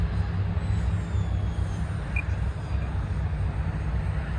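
An E-flite Habu STS radio-controlled plane comes in to land, its electric motor a steady mid-distance whine and hum over faint outdoor background, with no talking.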